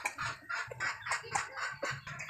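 Chickens outside a house cluck repeatedly in short, uneven bursts of calls, moderately close, with no talking.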